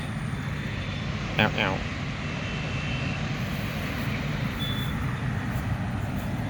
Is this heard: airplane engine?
yes